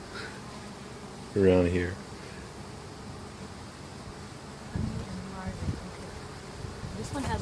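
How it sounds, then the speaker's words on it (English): Honey bees hum in a continuous soft drone around an open hive in an urban backyard, while a person talks close by over the buzzing. "So there's a lot more bees"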